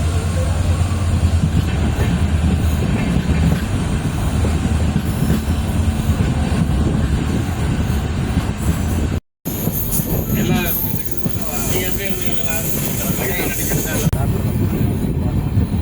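The Secunderabad–Rameswaram Express on its inaugural run rumbles steadily and loudly from up close, with a constant rolling roar, a momentary dropout midway, and faint voices mixed into the noise.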